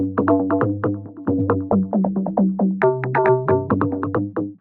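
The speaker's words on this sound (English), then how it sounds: "So just a cool kind of granular delay." A plucked melodic sample run through a Portal granular delay preset, its notes smeared into dense, shimmering repeats that blur together in a continuous stream of bright tones.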